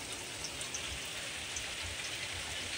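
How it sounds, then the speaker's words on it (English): Heavy rain pours down steadily during a Seattle thunderstorm, a dense, constant hiss of drops drumming on surfaces close by, with no talk over it. "I mean, the rain is beating down on the crib."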